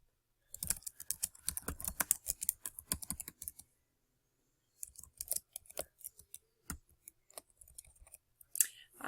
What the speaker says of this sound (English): I'm done typing my 3 paragraphs.